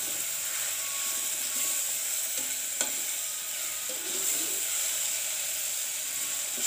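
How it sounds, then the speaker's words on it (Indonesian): Squirrel meat fries in a pan with spices, giving a steady close sizzle broken by occasional scraping stirs and small clicks, with no talking. "Ini daging tupainya udah saya masukkan."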